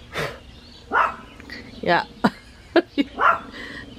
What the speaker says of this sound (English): barking at the Amazon guy that came 10 minutes ago